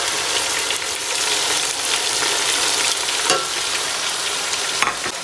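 Spices and tomatoes for chicken korma pilau fry in a pan with a loud, steady hiss and crackle, close up, with occasional stirring scrapes and no voices.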